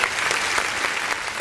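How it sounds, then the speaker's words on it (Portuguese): A church congregation at a worship service claps together in a short, steady burst of applause. "Vamos aplaudir o nome do Senhor Jesus."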